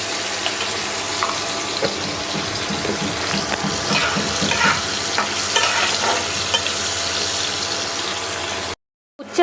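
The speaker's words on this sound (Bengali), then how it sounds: "উচ্ছেটাকে ভেজে নেব।" Bitter gourd fries in a pan with a steady, dense sizzle and occasional spatula scrapes and stirs, close and continuous, ending in a sudden brief silence.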